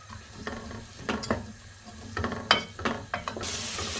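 Chopped onion mixed into bolognese sauce in a pan: a series of separate scraping stir strokes over a faint sizzle, with a brighter hiss rising at the end.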